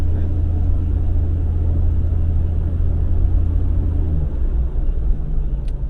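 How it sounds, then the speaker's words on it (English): Steady low engine rumble of cars stopped or crawling in a traffic jam at road works where lanes merge to one, heard from inside a vehicle, constant and loud with no distinct events. "Traffic as far as the eye can see."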